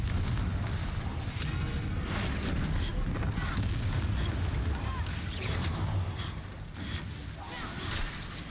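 Confringo fire-spell explosions in the Hogwarts Legacy video game, a dense, loud rumbling barrage of booms and blasts that continues unbroken throughout.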